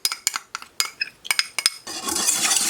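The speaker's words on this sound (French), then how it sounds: "avec le fouet, je vais venir donc mélanger le tout" A whisk works cornstarch dissolved in coconut milk in a bowl for a coconut Kinder Délice dessert. It starts as a string of sharp metallic clinks, then becomes a steady, close, brisk scraping swish.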